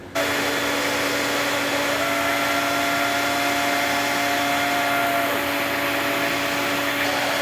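A black box dust collector vacuum in a woodworking shop runs steadily after switching on, a loud continuous whooshing roar with a constant mechanical hum holding level throughout, with no voices.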